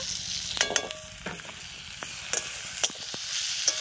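Chopped onion and ginger paste fry in hot oil in a pan, a soft steady sizzle punctuated by scattered crackles and pops, with occasional stirring clinks and no talk.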